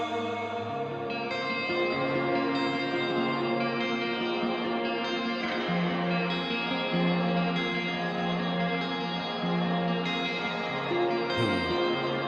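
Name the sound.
echo and reverb effect on a song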